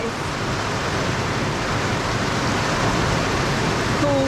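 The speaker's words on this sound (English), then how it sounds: "We're getting us a little rain." Light rain falling outdoors over a garden, a steady soft broadband hiss that stays even and continuous throughout, with no talk over it.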